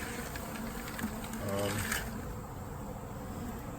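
Honey bees swarm and buzz around an open feeding bucket set on dry pine straw. The hum is steady and soft and runs through the whole stretch, with a voice talking over it.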